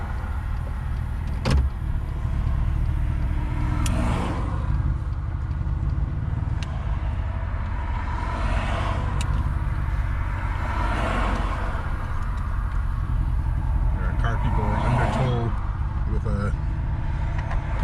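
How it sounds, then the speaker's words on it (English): A car drives along a highway, a steady loud road and engine rumble with wind noise running throughout, with occasional clicks and thumps inside the cabin and people talking over it. "So we're gonna hit the highway"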